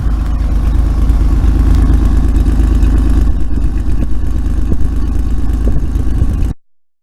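A 1991 Oldsmobile Cutlass Ciera engine idles with a slight shake, a loud steady low rumble with an uneven, lumpy pulse that runs continuously before cutting off abruptly.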